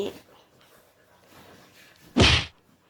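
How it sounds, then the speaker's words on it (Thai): A dog knocks against a door in the morning, heard as one loud, short thud after a quiet stretch. "เขาก็จะมาเคาะเคาะเคาะประตูนะทุกคนเคาะประตูแม่"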